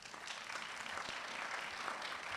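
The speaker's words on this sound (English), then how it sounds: "Let's give him a round of applause." An audience at a retirement reception claps in steady, fairly soft applause from across the room, a continuous patter of many hands with no voices over it.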